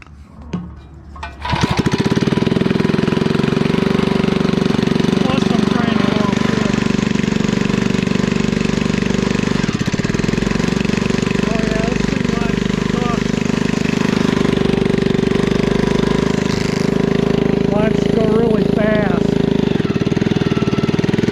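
Close and very loud, a REO Trikeabout small engine catches after a brief pull and then runs steadily with a rough, buzzing, chattering drone for the rest of the clip, its pitch shifting slightly now and then.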